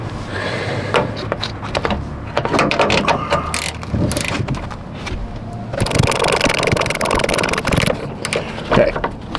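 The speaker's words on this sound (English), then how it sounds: "I'm just going to use a wrench ratchet to do them all." Ratchet wrench undoing bolts on a Chevy Silverado during a leveling kit install, rapid metallic clicking in repeated bursts mixed with knocks of tools, loud and close.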